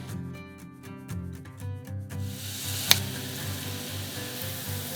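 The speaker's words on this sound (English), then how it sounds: "Onions have glazed a bit. They're now starting to brown" Onions sautéing and starting to brown in a pan while cooking in a camper van in the Mojave Desert, a soft close sizzle with stirring scrapes and one sharp clink.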